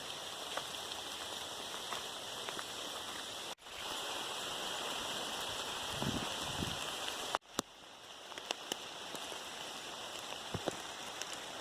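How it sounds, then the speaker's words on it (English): Rain falling outdoors during a walk with a dog, a steady close hiss of drops with scattered individual patters, continuous throughout with a couple of abrupt cuts. "it is raining right now"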